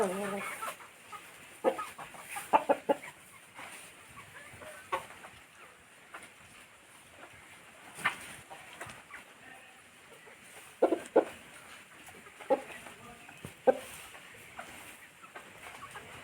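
A rooster among hens beside a vegetable garden gives short, sharp clucks and calls in scattered bursts, close and fairly loud over a quiet outdoor background.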